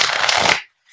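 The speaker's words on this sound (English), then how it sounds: "I'm just going to give the deck a shuffle." A deck of playing cards shuffled once by hand in a single brisk, close riffle lasting about half a second, then silence.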